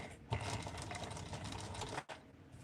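A sewing machine runs in a steady fast stitching burst up close, pausing briefly near the end before starting again.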